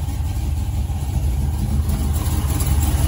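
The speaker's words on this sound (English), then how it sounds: "I want y'all to see how pretty it looks while it's running." A 1987 Chevrolet Monte Carlo SS on 24-inch wheels idles nearby with a steady, loud, low rumble that holds even throughout, with no voices over it.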